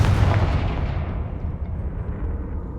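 Confringo fire spell detonating in the Hogwarts Legacy video game, a single loud, deep explosive blast that booms at the start and then rumbles and fades over a few seconds.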